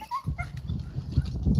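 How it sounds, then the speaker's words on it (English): A hog hunting dog in a yard lets out a few short, high whimpers and yips near the start, followed by low rustling and shuffling close by. "There's a lot more of the dogs out there"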